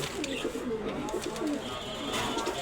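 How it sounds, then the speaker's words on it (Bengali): Soft, repeated pigeon coos rumble close by at a pigeon sale, with a steady murmur of birds and faint background noise throughout. "অনেক ভালো ভালো কবুতর পাবেন এখানে"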